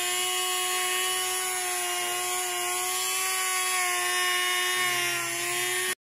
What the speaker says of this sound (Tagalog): papakintab tayo ng heavy grinder na lagay yung shock